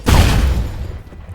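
A single heavy hand cannon shot in the Last Stand: Aftermath video game, a loud booming blast with a rumbling low tail that fades over about a second.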